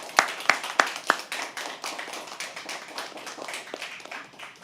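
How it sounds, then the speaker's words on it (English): Audience applause at a live poetry open mic: four sharp, evenly spaced claps up front, then a quieter, looser patter of many hands that carries on to the end. "Can we please have a round of applause for them?"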